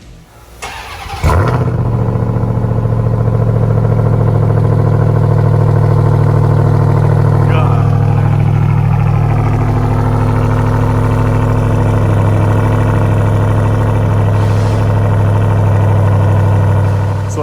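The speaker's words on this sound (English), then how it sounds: "let's remote start it here, fire it up for the first time, and let you guys get the first cold start ever" A 2021 Ram TRX pickup truck is remote-started cold, cranking and catching about a second in, then settling into a loud, steady, deep idle that holds with a slight wavering rumble throughout.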